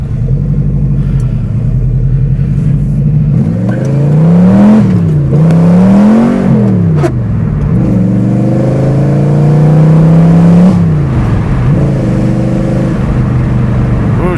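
A V8-swapped Pontiac Fiero engine idles with a deep rumble, then revs up and down in several swelling pulls before settling back, loud and close, with no talk.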